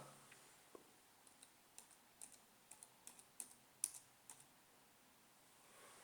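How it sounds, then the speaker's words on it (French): A password being typed on a computer keyboard, a quiet run of irregular light key clicks spaced over a few seconds, close and alone in a hushed room. "je vais taper mon mot de passe"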